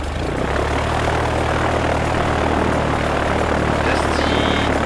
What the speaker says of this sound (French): Allumage des moteurs Dusty.